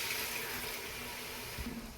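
Water poured from a cup into a pan of cooking pumpkin and tamarind, a steady splashing trickle lasting about two seconds, close and fairly loud with no talking.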